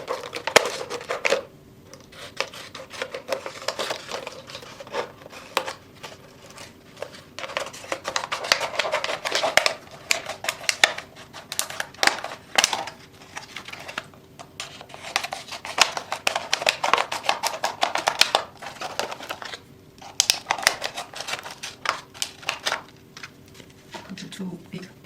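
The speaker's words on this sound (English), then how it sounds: "so I cut this glue part off." Scissors cut through a plastic bottle during a jewelry craft project, giving bursts of crisp snipping and crackling clicks in irregular clusters, separated by brief quieter pauses.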